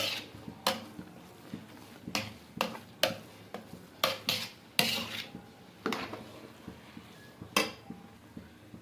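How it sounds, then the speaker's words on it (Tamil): A spoon mixes seeraga samba mutton biryani in a cooking pot, making a steady series of clear metallic clinks and scrapes every half second or so, close and fairly soft, with no talk. "இப்போது இது ஒரு வாட்டி நல்லா மிக்ஸ் பண்ணி எடுத்துக்கலாம்"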